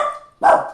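A dachshund barks indoors, one sharp close bark following a brief tonal whine, loud and alone.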